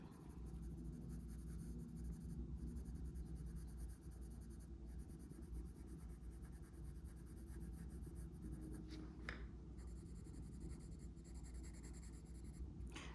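Colored pencil scratching steadily across paper as a flower and vase are sketched, a continuous close, dry scraping texture with brief pauses and no talking.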